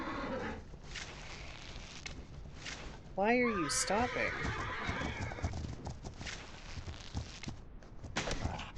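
In The Legend of Khiimori video game, a horse neighs loudly in a rising whinny, with clip-clop hooves and soft footsteps before and after, while someone talks over the game sounds.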